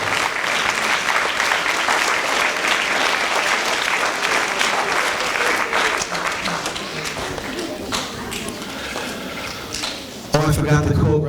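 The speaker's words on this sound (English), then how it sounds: "now I want to, even though they're not here, please give an applause to Christina Ramos-Payne, Marina Payne." Audience at a school cultural assembly gives sustained, even applause, a dense wash of clapping that lasts about ten seconds before cutting off abruptly.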